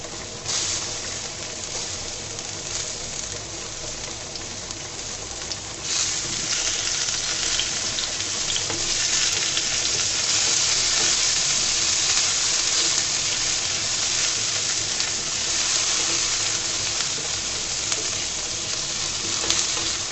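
Chopped onion and garlic fry in a pan for a Bengali pui shak bharta, a steady close sizzle that grows louder and fuller partway through, with occasional light stirring and no talk.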